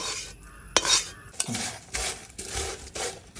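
Beef for a spicy beef pickle being stirred and scraped in a pan with oil and fried spices, giving repeated close clattering scrapes and soft sizzling in bursts, no voices.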